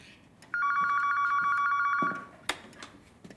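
An indoor telephone rings once in a steady electronic trill lasting about a second and a half. It is close and clear, and a handset clatter follows it, with no talking during the ring.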